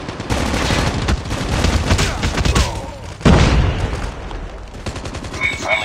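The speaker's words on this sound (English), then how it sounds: "Grenade out!" Grenade blast and rapid gunfire in COD Mobile, a dense loud stream of shots with a sharp heavy boom near the middle, continuing to the end.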